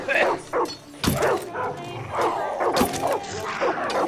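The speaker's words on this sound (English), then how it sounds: "that's probably why the dogs are barking" Dogs bark in the video game Far Cry 5, several sharp yaps and barks in irregular bursts, fairly close and loud, with some whimpering and background game noise.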